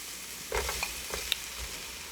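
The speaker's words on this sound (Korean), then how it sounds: "팬에 올리브 오일 2스푼 넣고 다진 마늘 1스푼 넣어 중불에서" Minced garlic in olive oil sizzles softly in a pan over medium heat, with a few quiet stirring scrapes and small clicks of the utensil against the pan.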